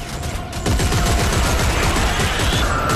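Rapid gunfire from a weapon in the sci-fi horror video game Dead Space 3, a dense continuous burst of shots carrying on loudly through the whole stretch, with no talk over it.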